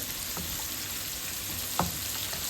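Eggs fry with onions in a pan, giving a steady sizzle broken by a few scraping stirs of a utensil, with no talk.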